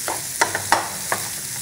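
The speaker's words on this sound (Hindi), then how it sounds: "बाद में हमें इसे तब तक भूनना है जब तक कि चीनी अच्छे से मिक्स नहीं हो जाती है।" Besan with ghee and sugar is roasted and stirred in a pan, with several quick scraping stir strokes over a steady soft sizzle, close by and with no voices.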